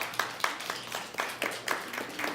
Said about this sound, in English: round of applause for Melissa